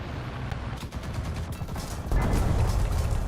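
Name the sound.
IS-4 tank cannon firing in a video game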